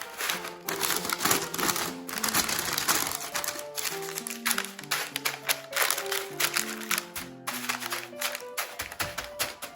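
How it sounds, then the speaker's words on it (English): Dried beans pour onto parchment paper laid over a pie crust, a dense rattling patter of many small hard clicks and taps that rises and falls over several seconds, close up and with no talk. "here I have some dried beans, and we're just gonna place it on top"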